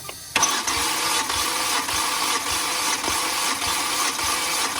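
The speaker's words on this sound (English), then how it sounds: "they're going to keep the gas wide open and start the car" A car engine cranks over and over during a compression test with the throttle held wide open, a steady, loud mechanical whirr and a regular pulsing beat, never catching to run on its own.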